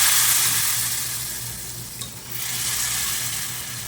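Dal sizzles steadily in a hot pan while it is stirred and mixed, a continuous close frying hiss with a soft scrape of the spoon partway through.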